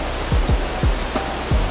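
Water of the Zigzag River runs through a green Oregon forest as a steady, broad rushing wash, with a few faint low thumps now and then.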